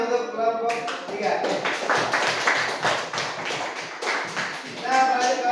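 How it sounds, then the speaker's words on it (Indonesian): A class applauding a student group in a classroom, a burst of many hands clapping that runs for several seconds, with a voice speaking at the start and again near the end. "Tepuk tangan untuk kelompok 3."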